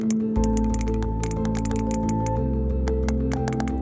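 Underwater recording of three or more sperm whales clicking at once, a dense crackle of overlapping clicks like frying bacon or popping popcorn over a steady low hum and tonal drone, with no voices.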